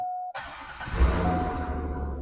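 A 2004 Chevrolet Corvette Convertible engine cranks and catches, settling into a low, steady idle rumble close by.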